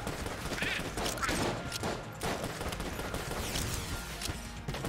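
Rapid video-game gunfire from Enter the Gungeon, a dense run of shots with crashes layered over game music, continuous and loud through the whole stretch, with no talk over it.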